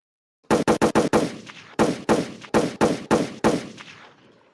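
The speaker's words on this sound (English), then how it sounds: "It's a lot of gunshots, a lot of shots fired." Two quick bursts of sharp gunshots, four or five rapid shots each, loud and close with short echoing tails, then fading out.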